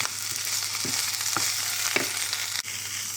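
Red pesto sauce with garlic powder being mixed in a hot pan, a continuous close sizzle with several soft scraping strokes from the spoon, no talking.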